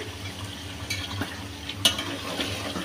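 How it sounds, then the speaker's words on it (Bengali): Chicken sautéing in spices and oil in a pan, a low steady sizzle with soft scraping strokes of a spoon and a few sharp clicks against the pan. "আমি এভাবে 5 মিনিট পর্যন্ত ভালো করে মশলার মধ্যে কষিয়ে নিলাম"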